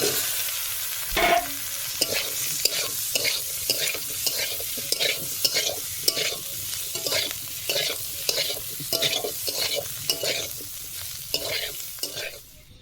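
Potatoes fry in a pan with turmeric under constant sizzling while a spatula scrapes and stirs in a quick, regular rhythm of sharp strokes. The stirring is close and loud, and nobody speaks.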